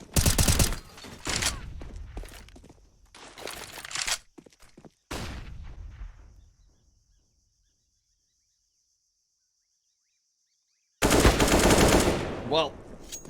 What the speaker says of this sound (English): shots starting to ring out